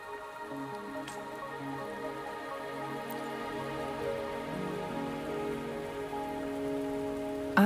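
Steady rain falling in the video game Wuthering Waves, a soft even patter with scattered drips, continuous and moderately quiet under a faint tonal music bed, no voices.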